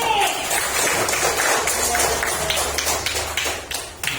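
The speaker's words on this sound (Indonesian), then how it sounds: "Tepuk tangan untuk Fahri." A classroom group claps for a student about to present, a dense, steady patter of many hands that carries on throughout and thins out with a few separate claps near the end.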